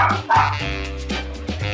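A dog barks and yips a few times up close, with whimpering tones and a steady background hum.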